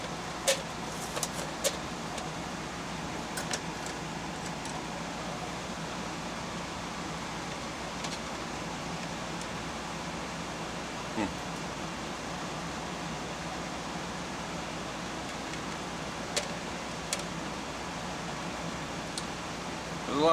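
An inline exhaust duct fan pushes air out through a flapper valve, a steady, even whooshing hum that stays constant throughout, with a few faint scattered ticks on top.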